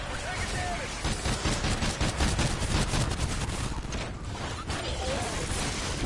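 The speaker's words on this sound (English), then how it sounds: "Shoot at the hive." Rapid video game gunfire rattles in dense, continuous bursts as players shoot at an alien hive, loud and close, with some voice mixed underneath.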